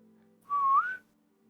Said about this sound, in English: Whistle that as you walk in that grove.